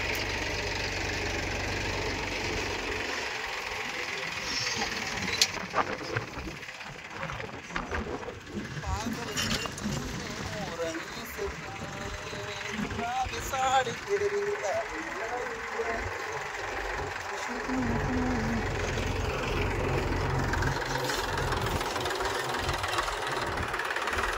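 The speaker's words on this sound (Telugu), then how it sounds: "సో ట్రాక్టర్ స్టార్ట్ అయింది." A tractor engine running just after starting on a paddy farm: a continuous low rumbling idle that stays steady throughout, with some knocking and clatter and other noise layered over it midway.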